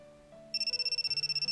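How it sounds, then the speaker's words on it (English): A cell phone ringtone in a visual novel game cuts in after about half a second of soft background music, then plays as a rapid, evenly pulsing high electronic trill. "My other cell phone begins to ring for the first time in 3 years."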